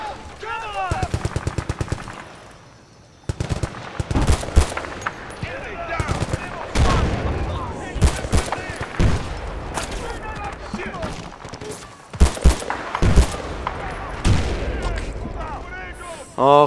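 Machine gun fire from Battlefield Bad Company 2 rattles in rapid, loud bursts, one long stutter early on and then repeated volleys, mixed with booms and someone talking over the action.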